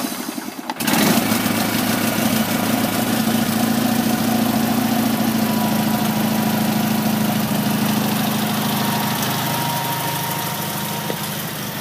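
A 1979 Sears GT19.9 garden tractor with a modified exhaust cranks briefly and fires on a cold start, then settles into a steady, loud, rumbling idle that runs evenly to the end.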